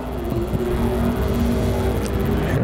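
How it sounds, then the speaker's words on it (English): An IMCA stock car accelerates out of turn four on an Arizona speedway during qualifying, its engine roaring loud and steady as it rises in pitch across the clip. "Here, Hollis getting back on the loud pedal, coming off a turn on number 4."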